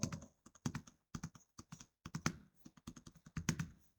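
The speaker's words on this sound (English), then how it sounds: "We will type bar chart in this new sheet box." Computer keyboard typing in bursts of quick, close key taps with short pauses between words, entered into a spreadsheet sheet-name box; no talking.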